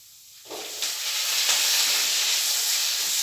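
Chopped tomatoes hit a hot pan for a soybean curry, setting off a sudden loud sizzle that settles into a steady, close hiss of frying.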